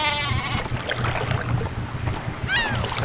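A sheep weapon bleats in the Worms video game, a cartoonish baa with wavering harmonics near the start and a rising bleat near the end over a steady low game hum, with no talking.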